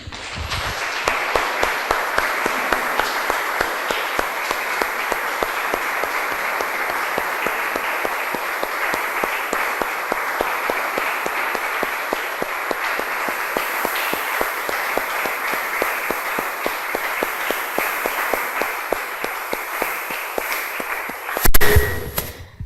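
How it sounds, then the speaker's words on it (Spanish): Church congregation gives a long, steady round of applause for the Lord, many hands clapping in a dense, even rhythm for over twenty seconds, ending with a brief louder clatter. "Damos un aplauso, hermanos, al Señor."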